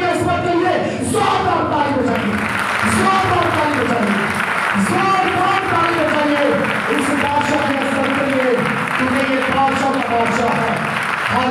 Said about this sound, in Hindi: जोरदार ताली बजाइए, जोरदार ताली बजाइए